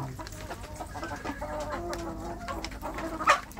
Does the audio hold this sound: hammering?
no